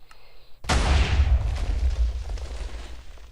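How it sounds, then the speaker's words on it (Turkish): A TNT block from a Minecraft dynamite mod detonates in one sudden, loud boom, followed by a long, rumbling, crackling decay that fades over a few seconds. "Aynen bak bu 100x büyüklüğünde patlıyor herhalde."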